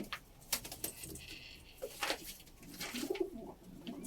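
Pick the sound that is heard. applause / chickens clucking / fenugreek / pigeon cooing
pigeon cooing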